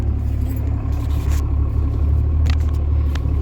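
A 2018 Cummins diesel pickup idles and rumbles low and close as it creeps into a parking spot, a steady engine drone with a few light clanks on top.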